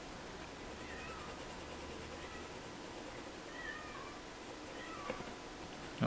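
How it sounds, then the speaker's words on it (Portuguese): A cat meows several times, faint and somewhat distant, over a quiet room tone with a steady background hum. "Se você estiver ouvindo um gato miando, você não tá louco, realmente é um gato"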